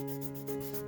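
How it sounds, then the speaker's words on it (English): Fine-grit sandpaper scuffs a surface in quick, soft, rhythmic rubbing strokes, close and quiet, with no voices. "So just a little bit of sanding just to scuff it out"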